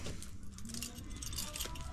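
A bunch of keys jingles and clinks continuously outdoors beside a broken generator, a close, bright metallic rattle that fills the whole moment with no talk.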